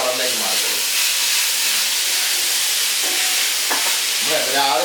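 An egg curry is stirred in a hot pan, giving a continuous hissing sizzle broken by soft scraping strokes and a few brief knocks from the spoon.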